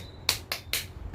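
Rain clapping done with two fingers tapped against the palm, giving three light, crisp pats at a steady quick pace, close and fairly soft in a quiet room.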